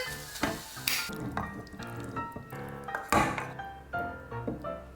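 Myeongran butter tteokbokki, made with rice cakes and pollock roe in a thick sauce, is stir-fried in a pan. It sizzles up close, with repeated scraping and dull thunks of the spatula against the pan.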